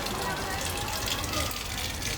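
Water gushing steadily from an open tap along the stepped pilgrim path to Tirumala, a continuous loud splashing rush with a voice talking over it.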